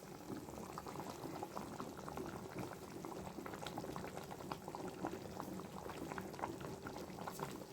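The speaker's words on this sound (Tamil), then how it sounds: "இப்போ நல்லா குழம்பு நல்லா கொதித்து நல்லா வந்துடுச்சு" Fish curry bubbling steadily in a pot, a dense, even simmering burble with small pops, continuous and close throughout with no voices.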